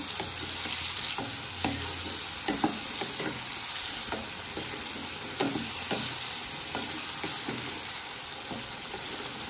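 A soaked paste of chilli, cumin and coriander fries in a pan for a Tangra fish curry, with a constant hissing sizzle broken by repeated spatula stirs and scrapes, close up and with no speech.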